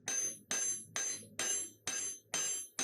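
A hammer forges 10mm rebar on an anvil in seven sharp, ringing metallic strikes at an even pace of about one every half second, close and loud, each blow decaying quickly.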